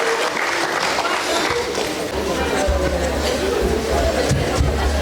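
Loud, sustained audience applause and crowd chatter at a school graduation day event as young children are welcomed onstage for a skit, a dense continuous roar with a low rumble underneath.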